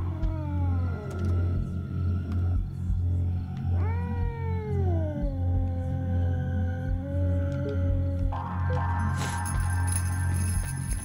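A cat in the video game DreadOut 2 lets out long, wavering meows and yowls that bend in pitch, loud and close over a constant low ambient hum, ending with a brighter burst of noise.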